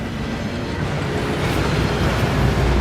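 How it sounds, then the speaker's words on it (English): A waterfall in the Hogwarts Legacy video game rushes as a dense, steady roar of falling water, loud and continuous with no voices over it. "That waterfall washes away all enchantments."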